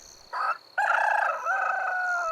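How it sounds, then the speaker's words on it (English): A rooster crows close and loud in a Passion reading: a short opening note, then a long, drawn-out cock-a-doodle-doo with a falling tail, alone over a quiet background. "And immediately a rooster crowed."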